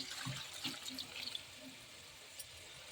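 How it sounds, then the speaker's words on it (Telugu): Water poured into a pot of curry, a faint splashing, running pour close by that tapers off after about a second and a half. "ఇప్పుడు కొంచెం వాటర్ వేసుకోవాలి."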